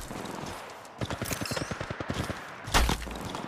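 A rapid burst of gunshots in the mobile game Apex Legends Mobile, a fast rhythmic string of sharp shots followed by a louder heavy thump, fairly close, with no talking.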